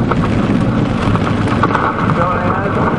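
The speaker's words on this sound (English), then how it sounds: "Rain." Steady heavy rain pours during a Kansas thunderstorm with a funnel cloud nearby, a dense continuous hiss of drops with low rumbling underneath, loud and unbroken for the whole stretch.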